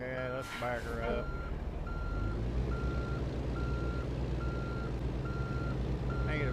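Big truck backing up, its reversing alarm sounding a steady series of evenly spaced beeps over a loud low engine rumble, with brief talk at the very start.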